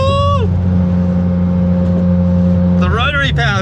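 The rotary engine of a Mazda FD RX7 drones steadily under load from inside the car, then rises sharply in pitch as it accelerates hard near the end.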